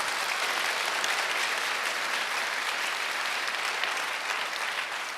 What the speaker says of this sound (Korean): 감동이 오시면 하나님께 박수를 영광 드리십니다